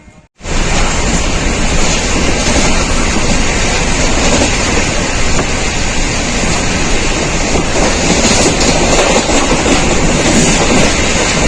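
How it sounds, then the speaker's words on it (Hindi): Train pulling in at platform 3 of New Delhi station, a loud, steady wash of rumbling wheels and rushing noise that starts abruptly and holds for the whole stretch. "और ट्रेन आ चुकी है"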